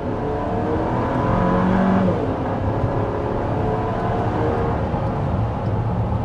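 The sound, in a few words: 2024 Chevy Traverse RS or GMC Acadia Denali accelerating from stop, downhill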